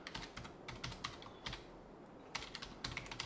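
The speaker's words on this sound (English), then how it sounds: "go and type in the IP address of your server" Computer keyboard keys clatter as an IP address is typed, quick bursts of crisp clicks separated by short pauses, close and fairly quiet.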